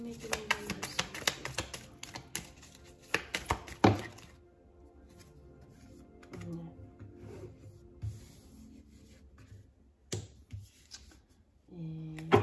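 Tarot cards are shuffled by hand for a love reading for Aquarius, with quick riffling bursts and soft taps heard up close. The shuffling is scattered and pauses in places, with faint speech at times.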